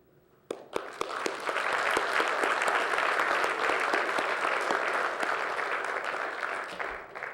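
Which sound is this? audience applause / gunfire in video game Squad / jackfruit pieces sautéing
audience applause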